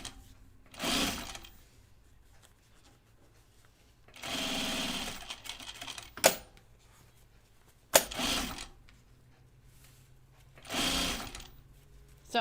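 A sewing machine stitches fabric in four short bursts of fast, whirring motor and needle chatter, separated by quiet pauses with a couple of sharp clicks and thumps as the work is adjusted.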